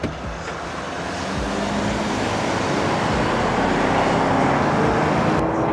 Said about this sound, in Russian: Вот сейчас едем по трассе 80 км в час.